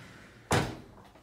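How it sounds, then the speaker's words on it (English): A hotel bathroom sliding door at the Royal Pacific, Universal Studios, opens in one short, fairly loud rolling thud that fades quickly into room quiet. "And then this sliding door."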